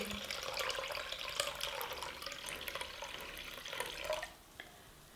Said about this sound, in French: j'ai un quart de litre de thé infusé auquel je vais rajouter environ 3 quarts de litre d'eau